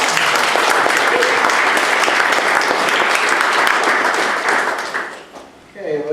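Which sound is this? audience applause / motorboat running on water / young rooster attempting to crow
audience applause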